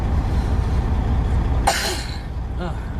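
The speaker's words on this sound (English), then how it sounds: "I can't kick this cough." A single short cough inside a truck cuts through a low rumbling background, followed by a faint throaty sound.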